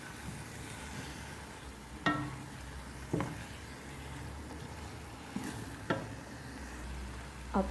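Lamb meat frying with spices in a pan for lamb majboos gives a steady, moderately loud sizzle, with a few sharp stirring scrapes and clinks spread across it. No one speaks.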